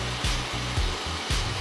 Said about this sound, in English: and hit with the blow dryer.